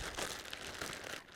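Raw steaks being shaken inside a plastic freezer bag with marinade, a brief close burst of crinkling, rustling plastic over about a second and a half, with no voices.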